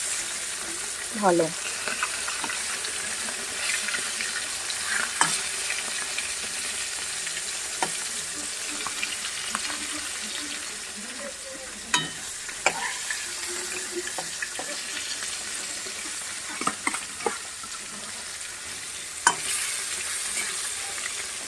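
Prawn heads fry in plenty of oil in a pan, a loud continuous crackling sizzle close by, broken by occasional clinks and scraping as they are stirred.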